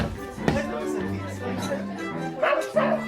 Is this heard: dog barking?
yes